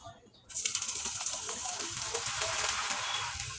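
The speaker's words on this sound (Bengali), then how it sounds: "কড়াইয়ে পরিমাণ মতো তেল দিয়ে ভেজে নিতে হবে" Dried leftover rice frying in hot oil in a wok, with a sudden bright sizzle that starts and then hisses on steadily with small crackles, fairly faint and close.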